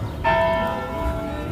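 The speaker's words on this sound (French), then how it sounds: "La cloche qui sonne." A church bell in a small town on the Loire rings once with a clear struck tone, ringing out and slowly fading, moderately loud with a bit of background noise.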